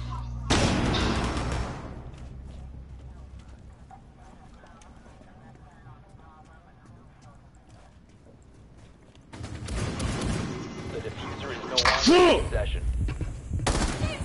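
Gunfire in a PS4 shooter video game: loud bursts of rapid shots at the start and again near the end, separated by a quieter stretch of game ambience, with players talking over it.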